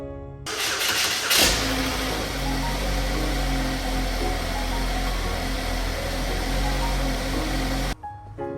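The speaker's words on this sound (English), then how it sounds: "We got the Equinox up and running." A Chevrolet Equinox 2.4-litre engine cranks briefly and catches, then settles into a steady, loud idle that runs close by for several seconds before cutting off near the end.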